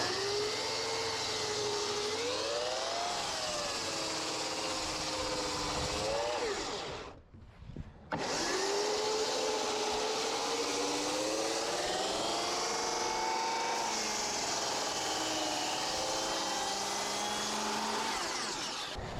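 A circular saw chews through a giant sappy timber, whining steadily with pitch sagging and recovering under load, a brief drop to near silence midway before the next long, loud pass.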